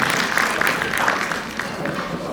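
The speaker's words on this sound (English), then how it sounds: "Big clap for all of you." Applause for a women's volleyball team at an Eid community celebration, with a crowd clapping steadily and loudly throughout the brief moment.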